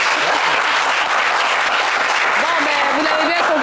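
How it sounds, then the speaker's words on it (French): Loud TV studio audience applause for a game show contestant, close and sustained clapping, with a voice and some cheering rising over it toward the end. "Applaudissez-le."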